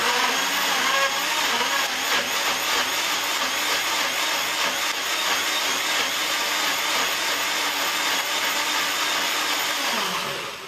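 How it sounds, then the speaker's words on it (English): A NutriBullet blender blending eggplant, running as a steady loud whirring roar that continues unbroken for about ten seconds before winding slightly down at the end, with no talk over it. "It will be noisy because of the blender, but that will be quick."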